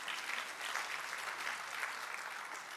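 A church congregation at a women's ministry service applauds together, a continuous, moderately distant wash of clapping that swells gently in waves without any clear speech on top.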